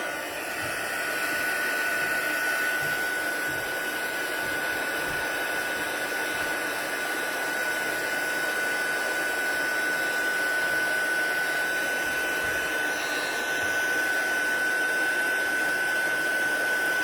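A heat tool for card making blows hot air in a loud, continuous whooshing drone with a steady high whine, running unbroken and close by.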